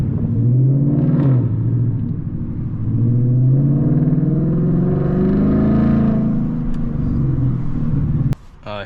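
Engine of a 2024 Ford Mustang GT firing back up through the automatic start-stop system, a loud, close, steady low rumble that swells briefly before cutting off abruptly near the end.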